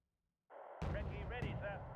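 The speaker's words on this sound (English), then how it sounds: "That's the mortar." Mortar fire in Wargame: Red Dragon, a sudden low booming launch that rumbles on under a voice talking over it.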